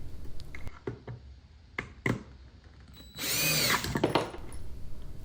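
A power drill whirs briefly while fixing a bracket to a homemade shoe rack, preceded by scattered clicks and knocks of handling tools and wood, the motor burst close and loud near the middle.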